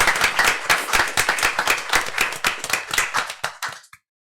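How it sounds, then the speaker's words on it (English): A round of applause from an audience at a city commission meeting, dense and steady hand clapping that carries on for about four seconds and then stops abruptly. "Let's give her a round of applause,"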